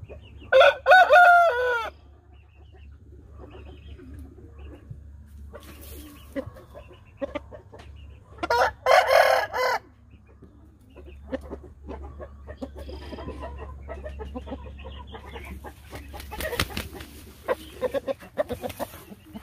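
Roosters at a farm crow loudly twice, each a long, clear call separated by several seconds, while hens cluck softly and intermittently in the background over a low steady hum.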